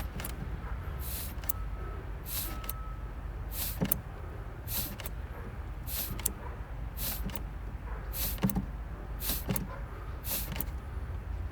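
A snow blower engine is cranked for starting after refuelling. About a dozen sharp, rasping bursts repeat roughly once a second over a low steady rumble, and the engine never settles into a continuous run.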